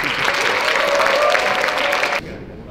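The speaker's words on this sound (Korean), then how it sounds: "뜨거운 박수로 환영해 주십시오." At an evening event for business managers, the audience gives a loud, warm round of applause welcoming new and transfer students, dense clapping that cuts off abruptly near the end.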